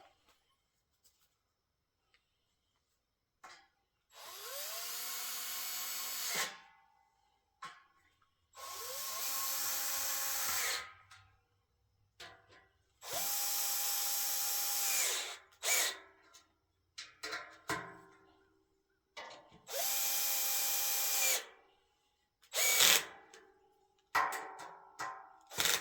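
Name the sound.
power drill tightening screws on a garden bench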